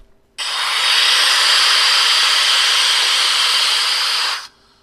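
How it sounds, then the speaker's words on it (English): A coal-fired steam engine in a basement starts up, a loud continuous hiss of escaping steam that bursts on, holds steady for about four seconds, then cuts off sharply. "Then the steam machine was starting to gain life."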